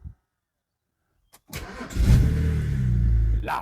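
A BMW N52/N54 straight-six engine starts: silence, a brief crank, then the engine catches with a loud surge and settles into a steady idle, heard close up.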